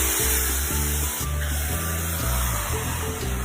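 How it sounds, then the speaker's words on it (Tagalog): Garlic, onion, salt and pepper sautéing in a pan for menudo, a steady loud sizzle with low clattering beneath it and no voices. "ating igigisa na ngayon yung ating menudo, yung bawang, sibuyas"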